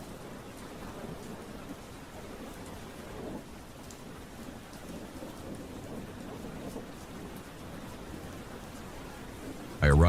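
Steady heavy rain pours down with a low rumble of thunder rolling beneath it, a dense, even wash of noise throughout, ending in a sudden louder burst.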